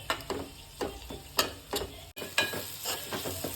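Onions fry in a pan with a soft sizzle, broken by rhythmic scraping strokes of a spoon stirring them, each stroke a distinct close swish repeated about every half second.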